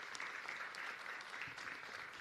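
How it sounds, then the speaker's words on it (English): A crowd at a COVID-19 vaccination site applauds the National Guard and FEMA with dense, steady clapping that stays even and unbroken throughout, heard at a distance and fairly faint. "Let's give the National Guard a round of applause and FEMA a round of applause"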